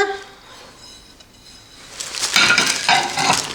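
Ceramic plates are handled and set against each other, giving a cluster of bright clinks and clatter in the second half after a quieter start.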